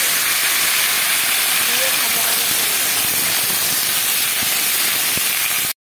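Cut potatoes dropped into hot oil with fried panch phoron for khichuri, a loud continuous sizzling hiss that holds steady for several seconds and then cuts off abruptly.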